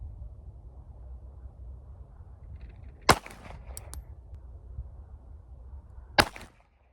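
Two sharp, loud shots from a North American Arms .32 ACP pistol ring out about three seconds apart over a low outdoor rumble at a shooting range.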